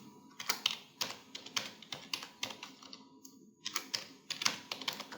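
Steady typing on a computer keyboard while entering Excel formulas, with quick bursts of clicky keystrokes, brief pauses and a faint hum underneath.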